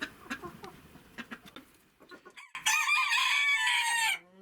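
Chickens sharing a shed with nutria cluck in short, irregular bursts, then one bird lets out a loud, sustained crow that dominates the final seconds up close.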